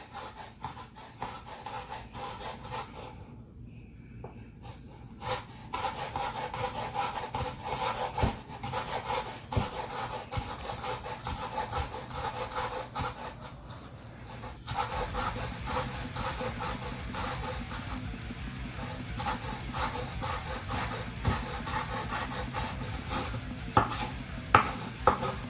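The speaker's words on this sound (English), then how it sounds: "Let me dice up these green onions, thin sliced" A knife dices green onions into thin slices on a cutting board, giving quick, soft, rhythmic taps and scrapes up close. It stays quiet at first, then grows busier and more even, with no talking.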